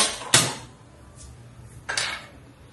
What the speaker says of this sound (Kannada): ಹಾಗೆ ಕಡಾಯಿಯನ್ನು ಇಟ್ಕೊಳ್ತಾ ಇದ್ದೀನಿ, ಮಲ್ಟಿ ಕಡಾಯಿ ಇದು.